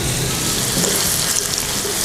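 Shallots sauté in hot oil on an induction stove, making a loud, steady, close sizzle that holds evenly and without a break.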